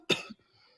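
A single short cough, soft and close, followed by a faint throaty trailing breath.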